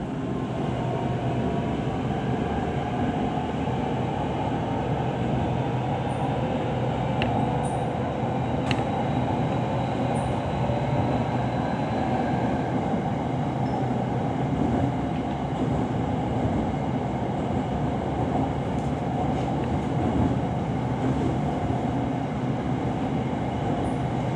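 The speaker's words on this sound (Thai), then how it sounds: "ตอนนี้รถไฟก็กำลังเร่งความเร็วขึ้นนะฮะ" Electric commuter train on Bangkok's Red Line, riding between Bang Sue and Taling Chan, gives a steady, loud, dense rumble throughout with a few faint high squeals and no talking.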